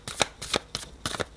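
A deck of tarot cards is shuffled up close in four quick riffling bursts of papery rustle, heard alone.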